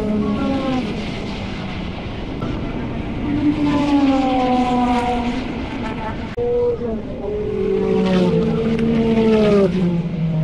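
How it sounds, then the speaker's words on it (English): A classic Ford Capri RS race car with a non-standard engine roars past at a Silverstone historic racing festival, its rising and falling engine note sweeping by twice, loud and close, with some voices in the background. "I don't know what engine's in that Capri RS, but it's certainly at no standard Essex V6."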